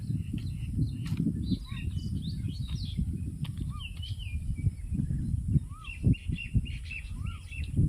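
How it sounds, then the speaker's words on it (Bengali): A cuckoo calls in village fields beside an earthen path, giving repeated short whistled notes at a moderate distance over a steady low outdoor rumble, with other small birds chirping now and then. "কোকিল পাখি ডাকছে কি সুন্দর যে লাগছে"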